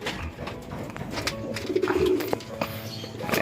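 Racing pigeons coo in low repeated phrases at a mini derby race loft, mixed with faint bird chatter and light background noise.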